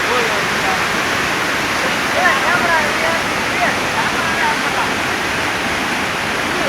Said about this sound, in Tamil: பாத்துக்கோங்க தண்ணி எவ்வளவு ஃபோர்ஸ் ஆகுது.